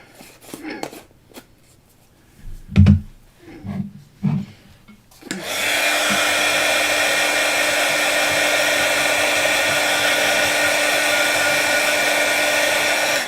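A hair dryer blows on a handmade card, switching on after a few seconds of quiet handling and tapping, then roaring loud and steady up close.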